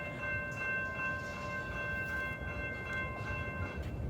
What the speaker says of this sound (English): Might as well listen to the train too, since we're here.